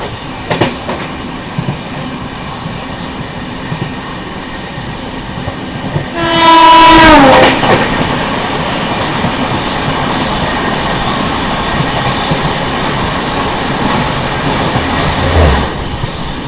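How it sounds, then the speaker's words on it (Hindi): An Indian Sainagar Shirdi–Pune Intercity Express train passes another at a railway crossing, with a continuous loud rumble of rolling wagons and clattering wheels and a brief blaring horn partway through, heard from on board with no talk. "फाइनली अभी अपनी क्रॉसिंग हो रही है यहाँ पे साईनगर शिरडी पुणे इंटरसिटी के साथ"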